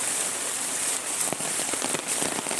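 Heavy rain pours down in a dense, steady hiss of drops drumming on surfaces, loud and unbroken throughout, with no voices.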